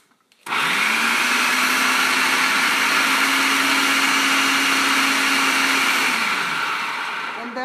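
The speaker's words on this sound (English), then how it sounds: "Give it 1 more blast with the food processor." A food processor blending hummus, starting abruptly with a loud steady whirring drone that holds for about six seconds before winding down.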